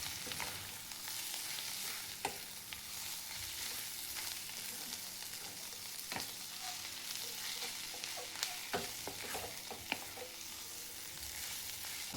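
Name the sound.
cluster beans and green chillies roasting in oil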